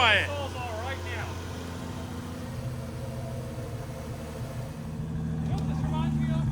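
A Dodge Hellcat with a swapped 2JZ straight-six idles steadily with its mufflers cut off, a low even rumble that swells slightly near the end, with people talking over it.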